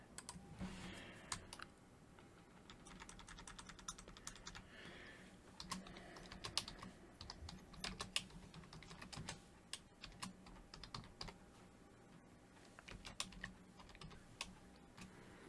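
Typing on a computer keyboard, with soft, quick, irregular key clicks in close bursts and short pauses running throughout.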